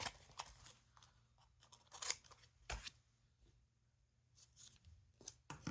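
Scissors snipping washi tape at a craft table, a handful of sharp close cuts spaced irregularly with quiet gaps between, faint overall and no talking.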